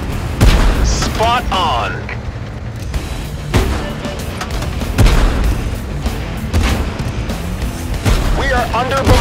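Video game artillery bombardment with repeated heavy booms and explosions landing close by, loud and irregular, while several voices shout over the barrage.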